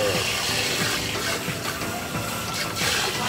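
Warm water runs steadily while bleached hair is rinsed at a salon basin, a constant close splashing hiss.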